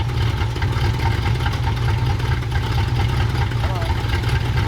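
An old Ford F-250 truck, left abandoned for 21 years, runs with a steady low rumbling engine drone, close and continuous throughout.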